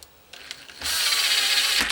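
An impact gun snugs up the bolts on a Nukeproof Mega mountain bike during a mullet conversion, with a few short taps and then a steady, loud buzzing whir lasting about a second.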